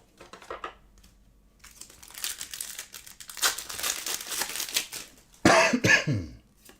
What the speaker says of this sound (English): I still have an annoying cough for no reason